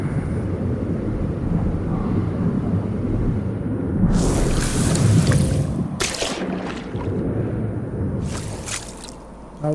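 Heavy rain and rumbling thunder during a storm in the video game No Man's Sky, a dense steady wash with louder rolling bursts midway and no talking.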